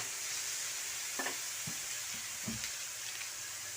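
Cabbage goes into a hot pan with garlic and fries in a steady soft sizzle, broken by a few faint clinks and stirring scrapes; quiet and close, with no talking.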